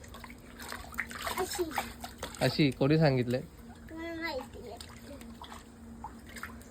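Water splashes and sloshes in a tank as a child swims and plays, with voices talking over the splashing.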